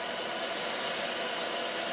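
Heat gun on its lowest setting blowing hot air over a Ruger Vaquero revolver grip: a steady, even airy hiss with fan whir, constant and close, with no other sounds.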